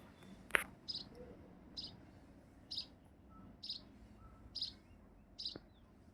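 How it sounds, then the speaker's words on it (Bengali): A small bird that has come inside a house chirps in short, sharp calls repeated at roughly even intervals over a quiet room background, about seven chirps in all. "ও তো ডাকছে একটা পাখি"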